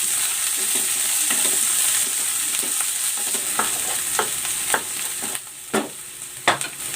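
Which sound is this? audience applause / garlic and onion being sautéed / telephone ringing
garlic and onion being sautéed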